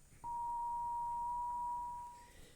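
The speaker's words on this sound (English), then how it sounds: "that's a pretty clean sine wave, and you can see one harmonic." Homemade ATtiny85 additive synth sounding a single pure sine tone, a clean steady beep held for about two seconds before fading out, fairly quiet over a faint background hiss.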